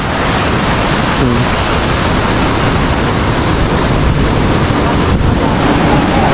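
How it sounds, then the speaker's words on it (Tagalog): Constant roar of small ocean waves with wind noise buffeting the microphone, loud and unbroken throughout. "lumiit na ang alon"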